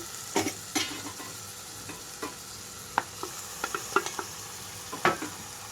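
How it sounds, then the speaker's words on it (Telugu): Tindora pieces and tomato fry with golden onions in a pan, a low steady sizzle punctuated by a dozen or so sharp spatula scrapes and taps at irregular intervals, close and quiet with no speech. "కట్ చేసి పెట్టుకున్న దొండకాయ ముక్కలు, అలాగే టమాటో మొత్తం వేసేసుకుంటున్నాను"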